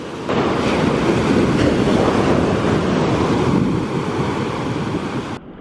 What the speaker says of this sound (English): I'm trying to catch these full novelty waves breaking along this rock.